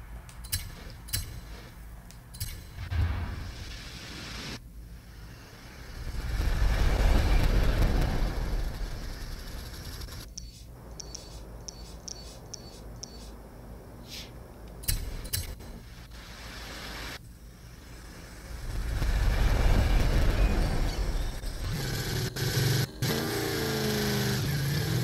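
Bone Shaker monster truck engine in Forza Horizon 5, loud and close, rising in two long revving surges with idling and lighter engine rumble between them, no talking.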